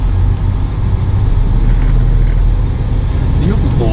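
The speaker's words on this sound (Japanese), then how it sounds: "アイドリングは600回転です。" A tuned 1966 Dodge Coronet V8 with a radical camshaft and Edelbrock carburetor idles at 600 rpm with the air conditioning running, a loud, steady, close low rumble throughout, partly under talk.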